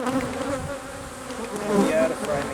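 Honeybees buzzing around an open backyard hive while a super is added, a dense close-up drone of many wings rising and falling in pitch, with no speech.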